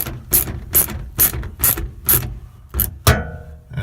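A ratchet tightening a clamp on a Bak Revolver X2 tonneau cover fitted to a Toyota Tundra truck: seven crisp, evenly spaced clicking strokes close by, with a final heavier clunk.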